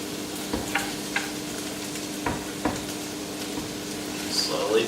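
Vegetables frying in a pan for chicken enchiladas, a steady soft sizzle with occasional stirring scrapes and clicks, close by.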